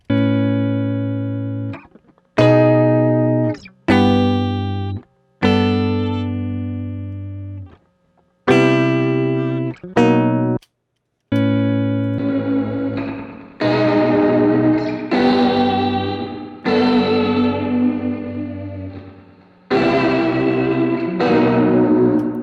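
A lofi mix in Ableton plays a DI electric guitar with drums and bass through layered effects, loud and tonal, with choppy stops at first, then a fuller, continuous groove.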